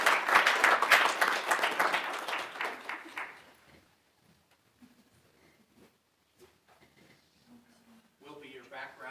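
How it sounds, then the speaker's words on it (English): A room of people at a council meeting claps in a burst of applause that fades out after a few seconds, leaving near silence with small shuffles before someone speaks. "if I can ask everyone for a round of applause for our Records Bureau staff"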